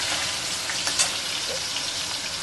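Tomato dropped into hot oil in a pan gives a steady, close hissing sizzle that holds evenly throughout with only small crackles.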